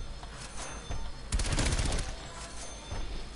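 Rapid automatic gunfire in the video game Call of Duty Cold War, several loud bursts of machine-gun fire with a dense volley in the middle, close and punchy, with brief gaps between bursts.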